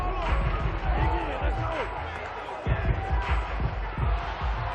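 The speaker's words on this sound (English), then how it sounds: "Plenty of shouts from this crowd as they watch the replay." Crowd noise in the football video game Madden NFL 22, a steady roar of shouting spectators with bursts of louder cheering throughout, audible under continuous commentary.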